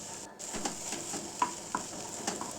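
A spoon stirs roasted peas and onion frying in a pan for a fenugreek, pea and tomato curry, with soft scrapes and light clinks over a faint, steady sizzle.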